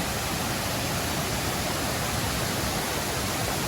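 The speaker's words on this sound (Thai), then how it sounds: "เดี๋ยวผมก็จะพาทุกคนเนี่ยมาดูน้ำตกนะ" A forest waterfall gives off a steady, dense roar of rushing water with no break. It is loud and constant, and no voices can be heard.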